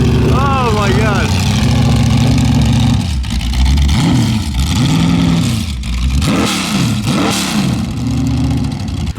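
An Ariel Atom V8 revs hard at a hill climb, its engine note rising and falling in repeated sharp surges, loud and close, with a brief higher whine at the start.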